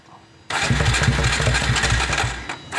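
A Kawasaki W175 motorcycle modified as a chopper bobber catches abruptly after quiet and settles into a loud, close, chugging idle with a steady low pulse.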